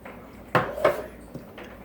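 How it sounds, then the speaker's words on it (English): A spoon stirs an edible slime mixture in a bowl, giving a few sharp, separate clinks against the dish, with soft scraping between them and a quiet room behind. "Keep stirring it."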